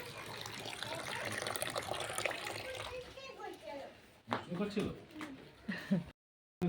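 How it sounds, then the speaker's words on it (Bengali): An open kitchen tap runs over spinach caked with soil, a steady rush of water that fades later on while voices talk throughout. "পালং শাকের মধ্যে প্রচুর মাটি এবং কলটা খুলে দিয়েছি যাতে কাদাটা একটু ছেড়ে যায়"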